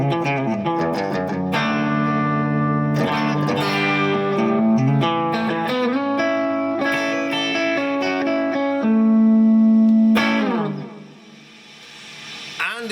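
Electric guitar played with the volume knob rolled slightly up into a fuzz pedal ahead of the amplifier, giving a bright, spanky, moderately driven tone; a run of sustained chords and notes rings loud and close, then fades near the end.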